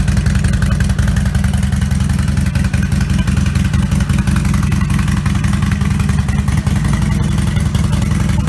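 A Harley Davidson Sportster/Nightster 1200 fitted with a Vance and Hines Blackout 2-into-1 exhaust idles close up, a loud, steady, lumpy low-pitched burble with rapid uneven potato-potato pulses and no voices.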